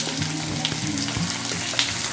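Onions go into hot oil with whole spices for a chicken curry and fry with a steady crackling sizzle, plus a few soft stirring clinks over a low hum.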